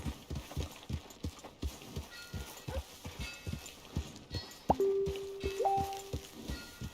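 Steady clip-clop of horse hooves at a walking pace in the video game Red Dead Redemption 2, fairly quiet, with a brief tonal chime midway through.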